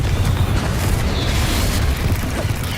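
A Confringo blasting spell explodes in Hogwarts Legacy, a loud, dense booming burst that fills the whole moment with continuous low rumble and crackle.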